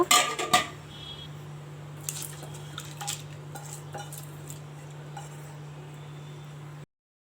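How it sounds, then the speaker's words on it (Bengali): Knife chopping cabbage in a home kitchen, a few sharp cuts at first, then scattered light taps and clinks over a steady low hum. "তো দেখো ওই যে বাঁধাকপি কাটতে বসেছি।"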